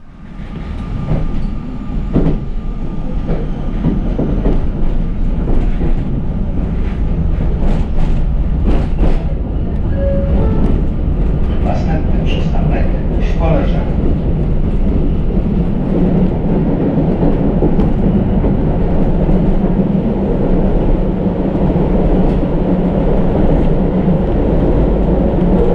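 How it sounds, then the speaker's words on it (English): A three-car tram with an accessible low-floor middle car rolls through Szczecin, its steady loud interior rumble and wheel noise running throughout, with rattles and a few rail squeals early on. "It's a tram with 3 cars and the middle one has a low floor and is accessible."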